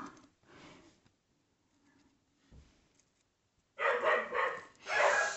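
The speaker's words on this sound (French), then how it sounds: "Excusez-moi pour les chiens." Dogs bark indoors, a few faint yaps early on, then a louder burst of several close barks near the end, with quiet stretches between.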